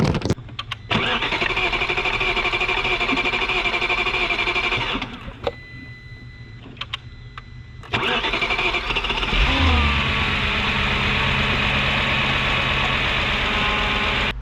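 An Audi B6 S4 engine, just fitted with a new fuel filter, cranks for several seconds, falls quiet briefly, then cranks again, catches, and settles into a steady idle.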